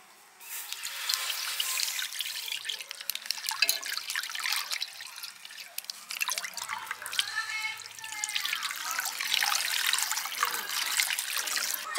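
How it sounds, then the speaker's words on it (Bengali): Milk from two packets poured into a pan for payesh makes a steady, soft trickling and splashing stream lasting several seconds, fairly quiet and close. "দুধ ঢেলে দিচ্ছি।"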